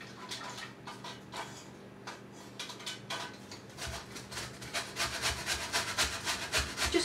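An orange is zested for a strawberry rhubarb pie filling: soft, rapid rasping strokes scrape against a grater, growing busier and slightly louder toward the end, with quiet kitchen background.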